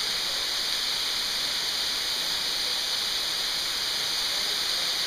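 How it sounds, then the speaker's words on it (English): Steady broadband rush of a waterfall at the mouth of a cave, a constant dense roar filling the whole moment without pause, close and fairly loud, with no voices over it. "Hey Shug, I'm at the top of a waterfall at the mouth of a cave."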